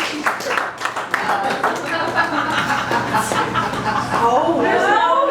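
Audience clapping at a performance in a winery, steady applause mixed with crowd chatter and laughter throughout, with voices talking over it.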